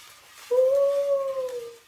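A dog howls once, a single close, loud, sustained tonal howl that starts abruptly and slowly fades, with quiet background before it.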